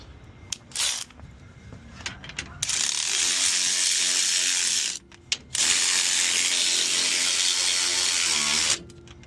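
A ratchet tightens the bolts of a custom Dana 60 wheel bearing on a Chevy Silverado, heard as two long, loud, steady bursts of rapid clicking, with a few short clicks before them.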